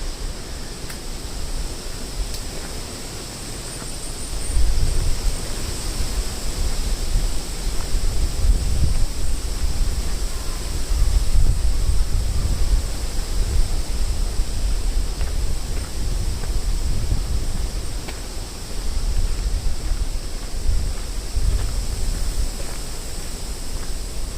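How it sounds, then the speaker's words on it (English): Steady wind rushes and buffets against the microphone for the whole stretch along the Tamagawa Josui in Tokyo, with low gusty rumbles rising and falling and no voices. "It is quite windy today"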